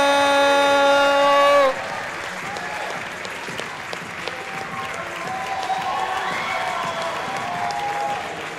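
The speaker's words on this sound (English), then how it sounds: "Please give a round of applause to Timmy Slim Tim Brownell." Crowd applause greets a squash player's introduction at a pro squash league final, sustained clapping that continues steadily after a loud horn-like tone ends, with an announcer's voice faintly in the background.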